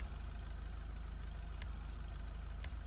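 A Declasse Tahoma Coupe in GTA V idles through a big bore race exhaust, holding a steady, low engine rumble with a couple of faint clicks over it.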